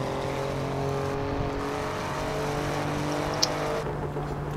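Race car engine in the Assetto Corsa driving game, a steady droning hum held at an even pitch under a constant broadband roar, without clear revving changes.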